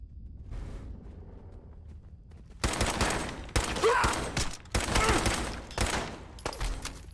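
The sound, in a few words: pipe pistol gunfire in the video game Fallout 4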